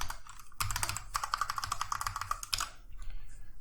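Fingers tapping out a quick run of keystrokes on a computer keyboard, close and fairly quiet, with a short pause and then a few more taps; no one speaks.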